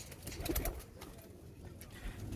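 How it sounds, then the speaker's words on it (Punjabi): Soft coos of red-eyed pigeons rise from a quiet rooftop background in inner Lahore, a few low murmuring calls close together with no talking. "ਕਬੂਤਰ ਤੁਹਾਡੇ ਸਾਹਮਣੇ ਨੇ, ਕਮੱਗਰ ਨੇ"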